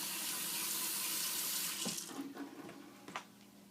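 Water runs steadily from a sink tap with a bright hiss, then cuts off partway through, leaving faint drips and small clatters, during installation of a Tyent UCE-9000T alkaline water ionizer.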